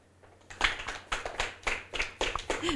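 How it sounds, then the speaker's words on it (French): An audience claps for a child after a book presentation on a television programme, a few seconds of uneven, moderately loud clapping with separate bursts and taps rather than a dense roar. "On applaudit Mathis."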